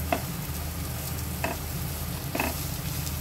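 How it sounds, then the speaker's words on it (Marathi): Okra and potato sabzi sautéing in a pan over high heat, a continuous sizzle broken by three distinct scraping stirs of a spatula at roughly one-second intervals. "आता तो गॅस फास्ट करून पुन्हा एकदा 1-2 मिनटं परतवून घेऊया"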